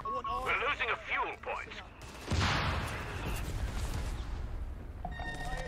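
Machine gun fire in the Company of Heroes 3 strategy game, a sustained rattle of rapid shots mixed with explosions and battle noise, with game voices calling out at the start.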